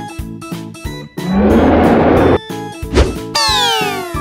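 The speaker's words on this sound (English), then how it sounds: "Cow." A cow lets out a long, loud moo over a repeating electronic backing beat, followed by a short thump and a sweeping synth flourish.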